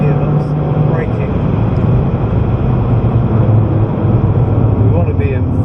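A BMW M3 engine on a hot lap at Goodwood drones loudly and steadily throughout as the car brakes and shifts down the gearbox, with a voice talking over it.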